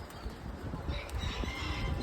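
Pigeons flap their wings as they enter a cage at a pigeon keeper's loft in Old Dhaka, giving a short run of soft, close fluttering beats.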